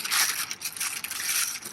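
A plastic packaging bag holding a paint filter bag is opened and crinkled, giving brief, faint papery rustles and crackles close by.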